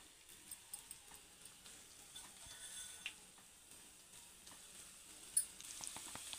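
Crushed garlic frying in hot oil for a tomato chutney, a quiet, steady sizzle with faint crackles and a few sharper pops and ticks of stirring, no one speaking.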